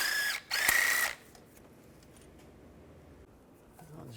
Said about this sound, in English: Now we're going to take the 2 starter bolts out.